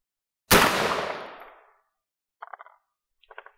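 A single loud, close .30 Carbine rifle shot cracks and booms, echoing and decaying over about a second, followed by faint distant rattling impacts.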